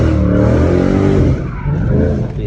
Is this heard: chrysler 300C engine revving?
yes